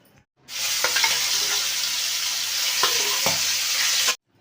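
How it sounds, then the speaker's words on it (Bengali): Prawns frying in a pan give off a loud, close, continuous sizzle that starts abruptly, holds steady for several seconds with a few stirring scrapes, and then cuts off sharply. "চিংড়ি মাছটা এখন আমি একটু ভালো করে ভেজে নেবো"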